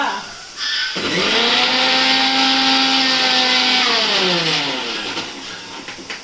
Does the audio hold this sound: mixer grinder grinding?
yes